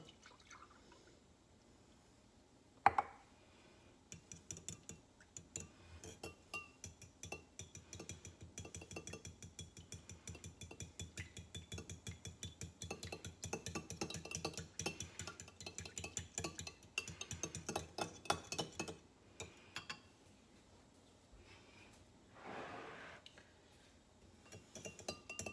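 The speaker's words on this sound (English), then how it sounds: "We're gonna whisk that together with 1 cup of milk." Whisking one large egg with a cup of milk in a small bowl, rapid light clinking taps of a whisk against the bowl in a quick steady rhythm, close but soft, with a sharp clink early and brief pauses.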